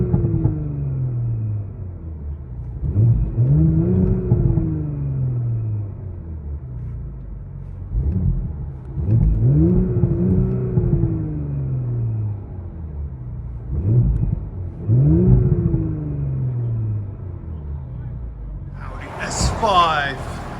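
Cabin view of a 2019 Audi S5 with a 3.0L turbocharged V6 and VPS Verstarkt muffler delete: a deep droning rumble swelling through about four repeated rev surges, each rising then falling back, with a brief whirring sweep at the end.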